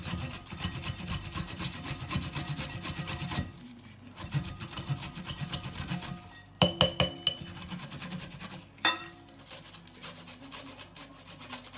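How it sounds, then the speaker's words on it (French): Fresh ginger being grated in a kitchen, with steady rhythmic rasping strokes, a few brief pauses and some clinking of a utensil against the grater or bowl. "Donc je vais râper."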